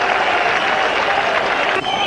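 Cricket stadium crowd at a 1999 World Cup match between India and Australia, a dense, loud wash of applause and cheering that holds steady throughout with no pauses.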